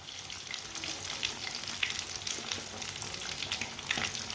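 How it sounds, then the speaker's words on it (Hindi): Fish frying in oil in a pan, a steady close sizzle with crackling pops throughout, moderately quiet and free of talk. "अब मच्छी को 3-4 मिनट के लिए पकने देते हैं।"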